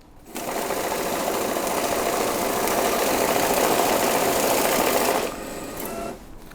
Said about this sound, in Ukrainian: В режимі Mix вона спокійно рахує, е, рахує змішану пачку купюр.